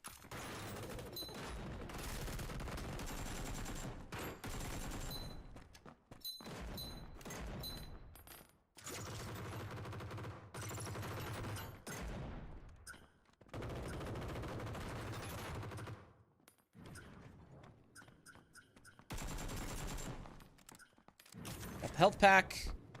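Gunfire in the action video game Demo Demolition, a steady stream of rapid shots and bursts with game mechanism sounds, broken by short pauses, playing under a player's talk.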